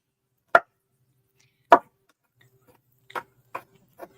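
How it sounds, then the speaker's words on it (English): A knife chops sliced garlic on a cutting board in a handful of sharp, close knocks, first widely spaced and then coming quicker, with no talking. "I'm going to chop it all together to make it finer."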